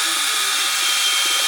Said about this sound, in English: Oh, this is my grinder